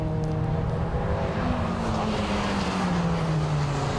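Toyota MR2 race cars in a championship race at Croft circuit, engines droning steadily with a sustained roar that shifts pitch as the cars pass, continuous and fairly distant.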